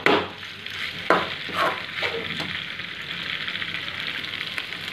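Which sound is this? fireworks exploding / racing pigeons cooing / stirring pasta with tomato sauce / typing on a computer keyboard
stirring pasta with tomato sauce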